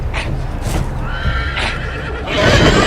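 Horses neigh and whinny several times over busy Game of Thrones video game noise, with hoof clip-clops and a steady rumble underneath; the whinnies rise sharply and stand out clearly.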